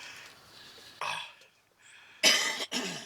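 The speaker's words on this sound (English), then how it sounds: "Now I can clear my throat." A few short, harsh throat-clearing rasps, close by, separated by brief pauses, with one louder burst near the end.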